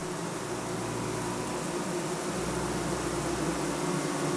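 Bees buzzing inside a hive, a steady dense drone with a low hum running throughout at a constant moderate level, no voices.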